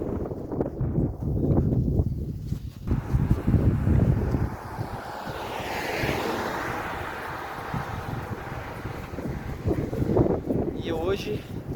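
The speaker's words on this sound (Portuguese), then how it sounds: "E hoje o vento tá contra." A strong, dusty headwind blows on the road to Tupiza, Bolivia, rumbling and buffeting against the microphone in gusts, with someone speaking over it at times.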